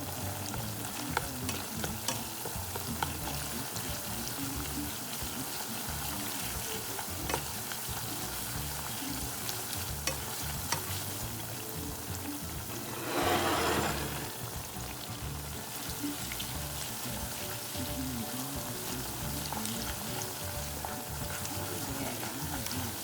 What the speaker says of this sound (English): And I'm going to let it simmer.